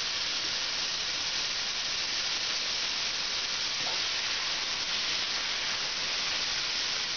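Chicken gizzards frying in fat seasoned with salt and cayenne give off a steady, dense sizzle and hiss that holds evenly throughout, with no talking.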